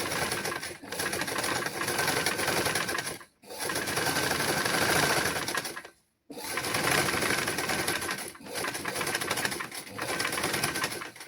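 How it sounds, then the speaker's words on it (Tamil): Domestic sewing machine stitching a curved seam on a child's garment in a tailoring lesson, running in long steady bursts with two brief stops, close and loud. "நோட் போட்டுட்டு இனி நாங்கள் இந்த வளைவுகவை தைச்சிட்டு பார்க்கலாம்"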